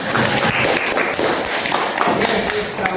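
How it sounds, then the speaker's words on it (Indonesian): A classroom group claps together during a teacher-training lesson at an Indonesian school, giving a dense, steady patter of many hands that fills the whole stretch at a fairly loud level. "tepuk tangan"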